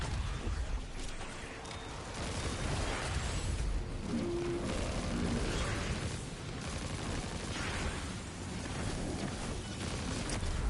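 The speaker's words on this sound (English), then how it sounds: "Explosion shouldn't hit me so high." Explosions and heavy gunfire in the shooter game Destiny 2, a dense, continuous battle roar with booming bursts throughout, loud and unbroken.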